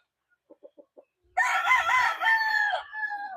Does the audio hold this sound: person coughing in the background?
no